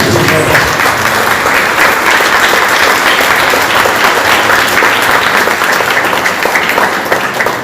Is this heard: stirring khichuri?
no